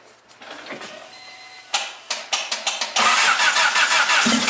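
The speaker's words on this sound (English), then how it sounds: "It's the starter. It's seized." An old wagon's engine gets a starter attempt with a seized starter, giving a few rough, halting cranking bursts, then a rapid series of loud, evenly spaced chugs that break into a steady loud running roar.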